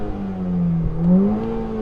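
A Volkswagen GTI engine revving at a drag race, a close mid-pitched engine note that dips and then climbs in a brief rev, with a steady drone underneath.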